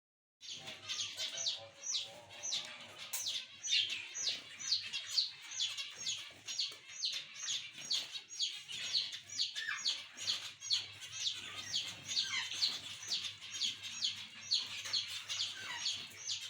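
Pet finches and other caged birds chirp busily while eating fenugreek, a dense stream of quick high tweets repeating steadily and close by, with no talking.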